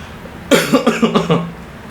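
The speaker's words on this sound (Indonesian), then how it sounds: "ini gue sampai batuk" A burst of several quick, close coughs in rapid succession, then quiet.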